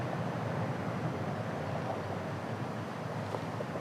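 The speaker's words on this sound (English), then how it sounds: "you can just hear the wind ripping" Hard wind ripping across a golf course in North Dakota, a steady, loud roar buffeting the microphone from start to finish with no voices.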